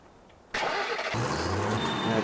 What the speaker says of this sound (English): So let's start up our tractor.